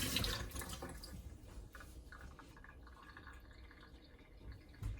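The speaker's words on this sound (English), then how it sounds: "Rinse my hands." A kitchen faucet runs while hands are rinsed during baking, a faint, steady splash of water with small drips and spatters, close and quiet.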